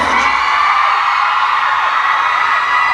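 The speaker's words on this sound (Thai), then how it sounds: "มีเสียงกรี๊ดจากแฟนคลับริดอยู่" A crowd of fans screaming and shrieking loudly and continuously at a mall event, high-pitched excited cries blending into one sustained roar.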